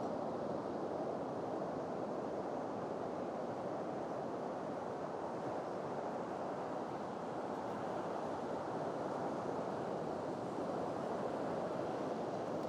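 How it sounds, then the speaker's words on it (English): Steady ocean surf at sunrise rolls in a broad, even wash, a constant low roar with a hint of wind and no voices. "just tuning into the sound of the ocean"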